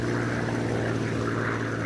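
Steady, droning propeller engine hum of a twin-prop Convair 340-580 airliner cruising at 22,000 feet over the North Sea, a continuous low rumble with no breaks.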